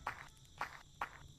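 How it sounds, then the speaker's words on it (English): Footsteps in the VR game Gorilla Tag, three evenly spaced soft thumps about half a second apart, quiet and close with a faint background hiss. "Can you feel your footsteps?"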